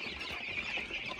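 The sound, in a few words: chicks cheeping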